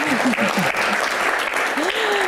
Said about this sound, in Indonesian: Tepuk tangan dulu dong, biar bahagia.